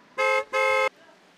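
Two loud, blaring car horn blasts in quick succession, the second longer, then a quiet street hum.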